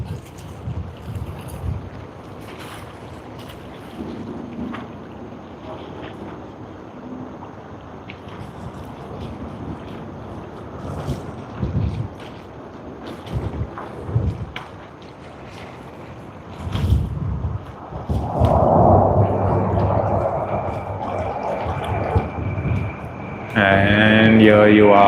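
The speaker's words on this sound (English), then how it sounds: "Takeoff roll has begun, and I can hear the engines spool up on the Airbus" Engines on a Qantas Airbus A330-300 spool up during its takeoff roll at Sydney Airport, a broad roar that swells and grows louder toward the end, heard from outside with wind buffeting the microphone and occasional talk.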